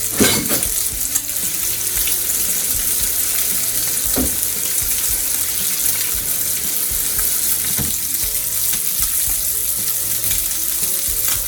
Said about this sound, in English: Now you don't want to fry your bacon on a real high heat